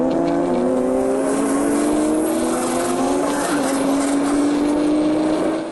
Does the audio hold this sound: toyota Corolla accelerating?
yes